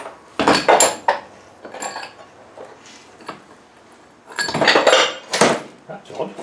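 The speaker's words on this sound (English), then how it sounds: "The shaft just fell off on its own, look. Fell out the bearing." A metal shaft drops out of a bearing in a Wolf LT230 gearbox, giving bursts of clanking metal-on-metal clatter, close by, with a quieter stretch between two louder rattles.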